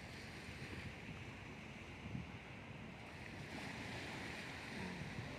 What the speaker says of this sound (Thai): ไม่รู้ถ่ายมาเนี่ยมันจะมีแต่เสียง ลมหรือเปล่าเสียงลมวุดวัดวุดวัดอ่ะ